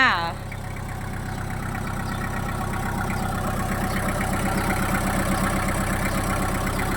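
A used Kubota M5000 tractor engine idles with a steady, even chugging rhythm. A brief sharp sound opens it, and a person talks over the running engine.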